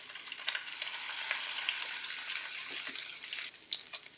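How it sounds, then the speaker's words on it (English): Salmon fillets sizzle steadily in a hot pan, a dense crackling hiss holding close and constant, with a few brighter pops and spits toward the end. "You can hear the sizzle."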